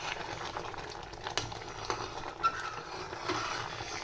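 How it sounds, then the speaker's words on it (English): Thick Japanese quince jam bubbles and sputters in a pot as a spoon stirs it, a soft continuous simmer with occasional small pops and scrapes, fairly quiet and without talk. "You can see when I stir that it's now getting quite superheated at the bottom."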